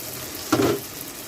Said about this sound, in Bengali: মাছটা সহ বেগুনটা একসাথে মিশিয়ে নেব।